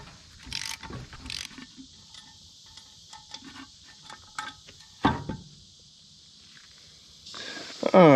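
A ratchet with several extensions clicks through short bursts while removing a brake disc during car repair, with a few sharp metallic clanks, quiet pauses between and a brief whirring sweep at the end.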